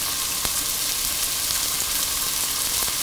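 Onion, ginger and curry leaves sizzle steadily in hot oil for a fish roe thoran, a dense continuous frying hiss with faint stirring clicks, close and alone without talk.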